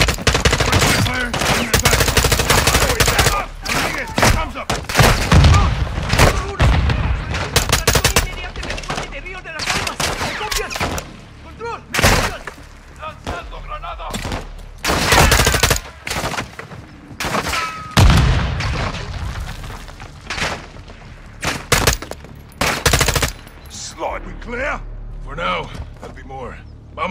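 Call of Duty gunfight during a raid on a Mexican cartel, with heavy, continuous rifle and machine-gun fire and occasional booms, loud and close, and voices shouting over the shooting.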